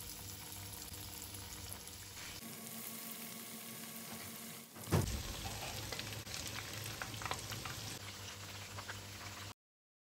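Oat-crusted chicken fingers frying in hot corn oil: a steady close sizzle that drops briefly, then surges with a burst as a piece goes in and keeps crackling busily.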